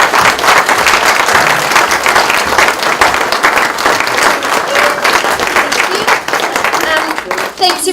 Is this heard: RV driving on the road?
no